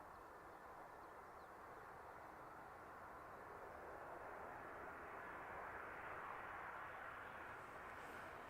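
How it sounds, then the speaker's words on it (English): An SAS Airbus A320neo at Dublin Airport sends a faint, distant, even engine rumble that swells slightly toward the end, with no speech over it. "So, 320 Neo for SAS."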